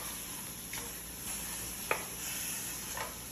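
Ground meat is stirred in a pan until dry over a soft steady sizzle, with a few light scraping clicks of the utensil against the pan.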